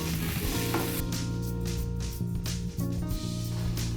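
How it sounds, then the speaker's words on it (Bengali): Taro frying with spices in a covered pan, a steady close sizzle with stirring clinks and scrapes, with a low steady hum underneath. "মশলার সাথে কচুটা খুব ভালো করে নেড়ে নেড়ে ভেজে নেব"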